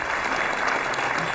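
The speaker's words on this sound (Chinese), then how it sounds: "掌声欢迎您来到我们台中" A studio audience at a televised Chinese health show claps loudly and steadily to welcome a volunteer, with dense applause filling the whole short stretch.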